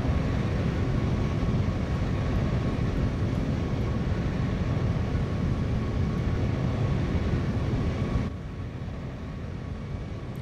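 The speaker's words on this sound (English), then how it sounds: "Here is another cinematic flyby." A Toliss Airbus A340-600 in X-Plane 12 passes by as a steady, loud broadband jet engine roar that holds constant, then drops sharply in level near the end as it recedes, with no talking.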